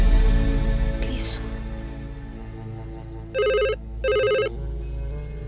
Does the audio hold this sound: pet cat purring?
no